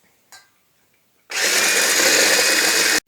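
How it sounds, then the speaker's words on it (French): An electric whisk beating apple cake batter with cornflour for a mascarpone apple fondant, a short clack and then a loud, steady motorised whirr that starts abruptly and stops cleanly after about two seconds. "On va fouetter."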